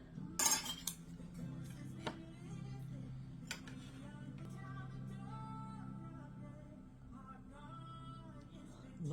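A small knife clinks and scrapes against a plate while a German bee sting cake is cut, with a sharp clatter at the start and then quieter, intermittent taps.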